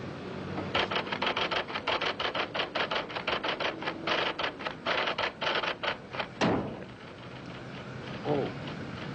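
A typewriter is struck forcefully in a fast run of loud, sharp clacks that fills most of the stretch, ending with a carriage return; voices speak faintly beneath.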